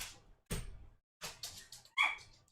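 A dog gives short, soft whimpers and yips in a few separate bursts, close by and quiet, with brief silences in between.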